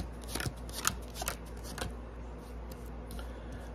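A deck of tarot-style cards is shuffled and cut, giving a few quick, close papery snaps and riffles over a low background hum.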